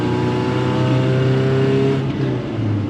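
Old truck engine running on a small amount of fuel, accelerating steadily with a loud, close, continuous drone and rising tone as it pulls through the gears, with no talking.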